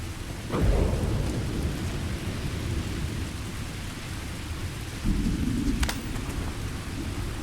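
Heavy rain pours steadily on a planet surface in the game Starfield, with deep rumbling thunder rolling in near the start and a second swell of thunder later, no talking.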